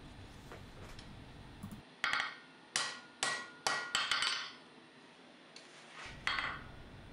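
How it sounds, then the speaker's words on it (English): A hammer strikes a forged knife tang on an anvil in sharp, ringing metallic blows, a quick string of about eight hits in an uneven rhythm with short gaps, loud and close. "I'm just planishing the tang, trying to make it flat and even, and make that taper super even"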